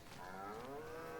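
A low, drawn-out cow moo from Farming Simulator 25 rises gently in pitch over a second, faint and somewhat distant, with no talk over it.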